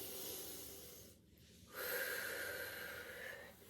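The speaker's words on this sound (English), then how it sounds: "it is a good idea if you can to take the breath in through your nose and breathe out through your mouth" A person breathes in through the nose and out through the mouth during an exercise routine, a soft close sniffing inhale followed by a brief pause and a longer airy exhale, with no talk.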